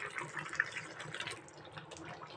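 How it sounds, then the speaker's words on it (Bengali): A small amount of water is poured into a simmering chicken and bottle gourd curry, giving a short, soft splashing trickle heard up close. "দিয়ে দেব এই যে এতটুক পানি ঝোলের জন্য।"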